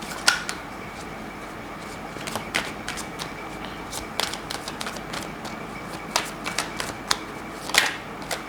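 Tarot cards being shuffled by hand, a steady papery riffle with sharper slaps and flicks scattered throughout, close and fairly quiet, with no talking.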